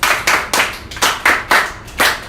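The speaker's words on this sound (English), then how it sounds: "Clap hands for yourselves." Children in an English class clapping hands together, a close, loud run of about eight sharp claps in a steady, slightly uneven rhythm.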